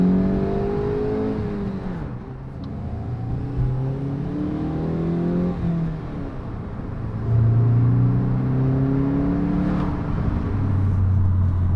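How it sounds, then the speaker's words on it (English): VW MK8 GTI with the stock air intake, heard from the driver's seat: a steady engine drone with rising and falling tones as it accelerates and shifts, steady in loudness over about twelve seconds, with no talk over it. "you can hear exactly what the air intake sounds like from the driver's seat"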